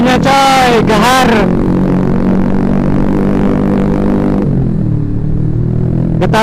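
A motorcycle engine rumbles and revs loudly up close, its pitch shifting then dropping, with a brief voice at the start.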